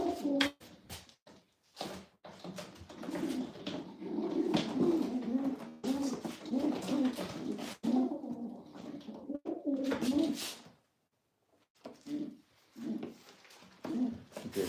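Leo Heremans strain pigeons coo repeatedly in low, throaty bursts, close by, with short pauses between calls and a brief silent gap near the end.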